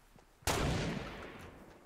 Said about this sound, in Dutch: Ik hoor heel veel schoten.